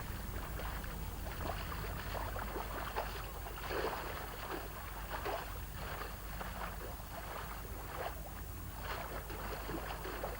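Racing kayak paddled through rough wild water, steady rushing water and splashing strokes forming a continuous, fairly loud wash with periodic surges from each paddle blade.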